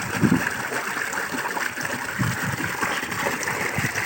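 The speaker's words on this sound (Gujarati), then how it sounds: "હમણાં મોટર હાલે છે પાણી ભરાય છે" A water pump motor runs in a village, filling a tank as water flows in steadily with a continuous rushing, trickling wash and no talk.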